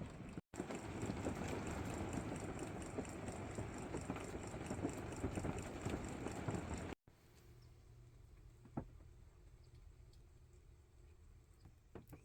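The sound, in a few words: rain during a storm at an RV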